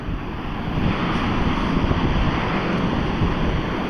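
Sea surf washing onto the shore, a loud, continuous rumbling wash heard close up, with wind buffeting the microphone and no voices.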